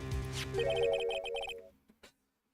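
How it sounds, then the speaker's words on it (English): Melodic electronic phone ringtone from the Phoenix Wright: Ace Attorney video game, a bright repeating chime pattern lasting about a second and a half, then two short clicks before silence. "I heard a phone ring just now."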